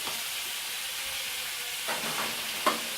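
Sausages browning in a frying pan give a steady, moderate sizzle with a few brief stirring or shifting sounds near the end.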